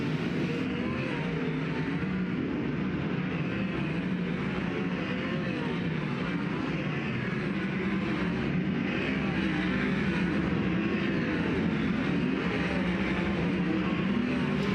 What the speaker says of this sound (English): as the engines come to life